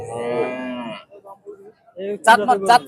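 Cows mooing at a busy cattle market, a long low bellow followed by shorter calls, loud and close with some nearby voices.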